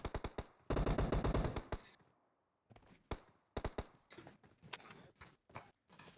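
Gunfire in the video game PUBG as a bot is shot: a long rapid automatic burst, then several shorter volleys and single cracks, sharp and close.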